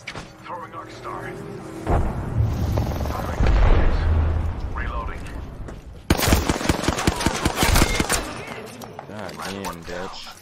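Video game gunfire and grenade explosions from an Xbox shooter match: dense rapid automatic bursts and heavy booms, loud and close, overlaid with a player talking throughout.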